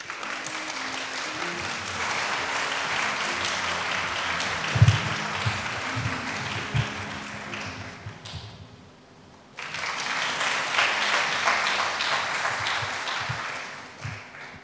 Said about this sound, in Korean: 총장님 앞으로 나오실 때 큰 박수로 환영해 주시기 바랍니다.